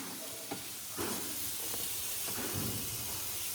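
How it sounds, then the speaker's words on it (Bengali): Chicken and egg frying gently in a little oil, a faint, soft sizzle and hiss with a few light scrapes and clinks of stirring, quiet and steady with no talking. "চিকেনটা আর ডিমটা হালকা হালকা করে এদিকে ভাজা হোক"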